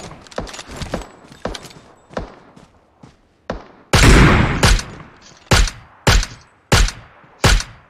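Gunfire in the PUBG Mobile game, a series of loud sharp shots in an uneven rhythm, with a dense burst of fire in the middle and several spaced single shots after it.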